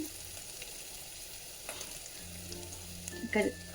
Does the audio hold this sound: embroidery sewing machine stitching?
no